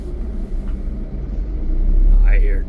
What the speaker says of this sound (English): I hear diesel, but there's a big truck next to me